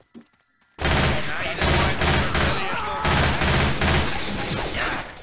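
Sustained gunfire from multiple weapons in the Left 4 Dead 2 campaign Our Mutual Fiend, loud and dense for several seconds after a short quiet start, with brief voice fragments mixed in.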